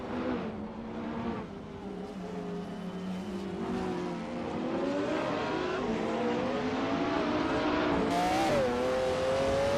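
Race cars in a racing video game, including a 1999 Lamborghini, roar off the start line, engines revving and rising in pitch as they accelerate, loud and continuous with shifting engine tones.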